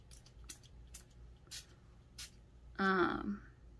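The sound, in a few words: spray bottle spraying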